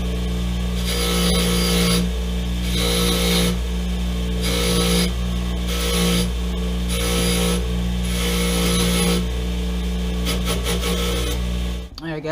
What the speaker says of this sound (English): Now I'm going to take this to the bench grinder quick and clean up all the burrs